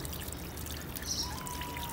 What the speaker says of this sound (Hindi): इस पर दाना पानी डाल दिया